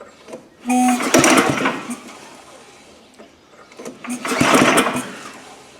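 An old Gravely power brush engine, left in a shed for ten years, cranks and catches in two loud bursts of rough mechanical running separated by a brief lull, close by with no talk.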